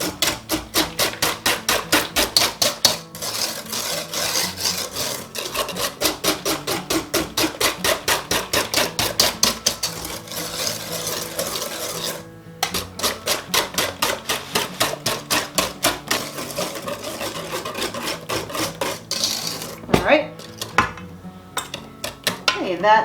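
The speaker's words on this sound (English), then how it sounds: "This one works a little bit better for whisking batters." A whisk beats pumpkin bread batter in a bowl, a rapid run of metallic clicks and taps against the sides that keeps going with brief pauses, close and prominent, with some kitchen clatter near the end.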